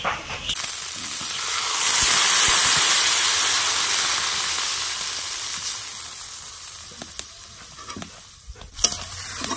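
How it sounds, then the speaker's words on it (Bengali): Water poured into a hot pan of spiced flat beans and cauliflower frying in masala sets off a loud, broad hissing sizzle that swells over the first seconds, then settles into a steady bubbling hiss with a few utensil clicks near the end. "এখন জল দিয়ে দেব"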